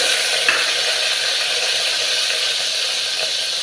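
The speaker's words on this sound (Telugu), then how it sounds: "ఇవి కొంచెం వేగాలి పచ్చిమిర్చి ఒక నాలుగైదు వేసుకోవాలి" Cluster beans frying in a pan with green chillies, giving a steady, close sizzling hiss that stays even throughout, with a faint clink near the start.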